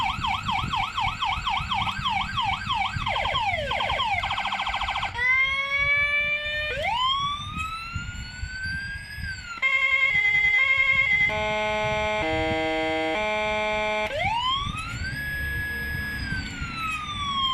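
A loud 200-watt 118K electronic siren box runs through different tones, fast warbling yelps, long sweeping wails and stepped alternating beeps, with no talking.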